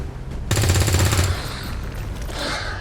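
Gunfire in the video game XCOM 2 War of the Chosen comes as a loud, rapid automatic burst of shots that lasts under a second, followed by a fading rattle and a softer tail.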